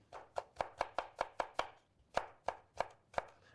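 A kitchen knife dices a pepper into tiny brunoise cubes on a cutting board, giving about a dozen crisp, close taps in a steady rhythm with one short pause midway, no voices.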